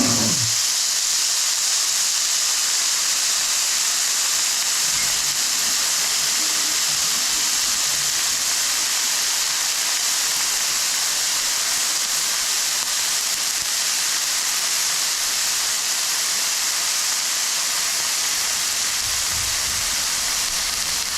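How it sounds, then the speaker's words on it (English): Homemade bacon, including end pieces, sizzles steadily in a pan, a continuous broadband hiss that stays even and close throughout with no voices. "Sound of sizzling bacon."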